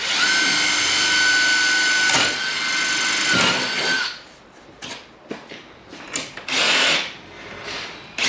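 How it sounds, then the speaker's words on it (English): A cordless power drill whirs loudly and steadily for several seconds, stops, then gives a few short bursts of revving close by. "Let's put any battery in my drill."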